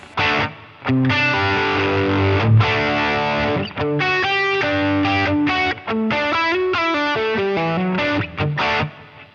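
An electric guitar through an amp modeler plays chords and short melodic runs, drenched in a large, spacious hall reverb that lets each note ring out and blur into the next.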